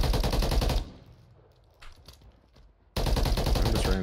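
Rapid bursts of gunfire from a single-fire weapon in Call of Duty Warzone, two loud close volleys separated by a quieter stretch of game ambience, no talk.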